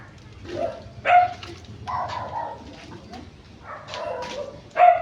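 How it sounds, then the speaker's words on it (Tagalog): A dog in a rural province setting gives a few loud barks and yips with whimpering tones between them, fairly close, with speech faintly present. "Aso."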